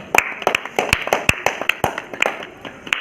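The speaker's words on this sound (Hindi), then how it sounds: "फिर से मैं इन दोनों लिए ताली।" An audience at a Bhojpuri village comedy competition claps for the winners, a dozen or so sharp, close claps in an uneven rhythm over three seconds, with no talking.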